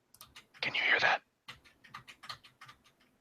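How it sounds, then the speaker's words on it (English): Computer keyboard typing comes as a quick run of key clicks. One dense, loud burst of fast typing is followed by scattered, fainter clicks, with a voice speaking quietly underneath. "It sounds like a keyboard."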